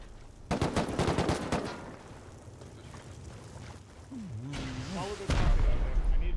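Bursts of rapid automatic gunfire ring out in the video game Rust during a large raid, dense volleys near and far, with a player speaking over the shooting.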